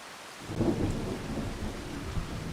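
Thunder rumbles through steady, constant rain in the Farming Simulator 25 game on the Lipinki map. The thunder swells early and then eases into a continuous rainfall wash, with no voices.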